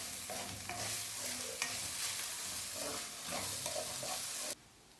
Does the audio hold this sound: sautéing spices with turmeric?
yes